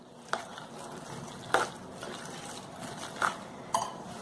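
Semolina batter being stirred in a bowl while making instant rava appe, with a soft steady mixing texture and four sharper spoon scrapes or knocks against the bowl, close and fairly quiet, no talking.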